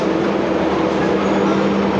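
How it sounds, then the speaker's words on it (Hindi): Steady, loud rumble of a local train rolling past close by, heard from aboard another train, a continuous roar with no breaks and no voices. "और इधर कोई तो लोकल ट्रेन आई है भाई।"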